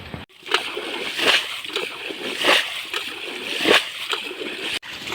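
Rhythmic splashing as water is scooped and thrown out of a small village pond by hand while fishing, four or five close, regular sloshing bursts about a second apart.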